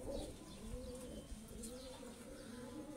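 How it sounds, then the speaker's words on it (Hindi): Pigeon, a Teddy-type fancy breed kept by a hobbyist, cooing softly in low repeated warbling phrases, close but faint, with no talk over it. "ये बोलता है कबूतर"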